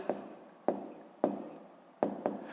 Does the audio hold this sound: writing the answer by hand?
yes